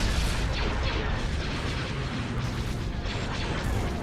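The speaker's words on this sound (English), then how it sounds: "Just keep firing with these guns." Ships' guns in a Star Wars Empire at War space battle fire without pause, producing a dense, loud barrage of booms and blasts that blur into a constant roar.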